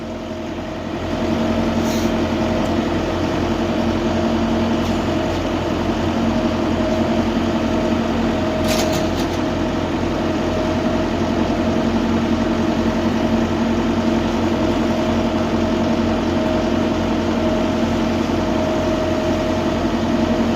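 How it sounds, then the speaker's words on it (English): A loud, steady boat engine drone runs continuously with a low hum and constant rumble, close and unchanging throughout. "this engine is a lot louder than I thought it was"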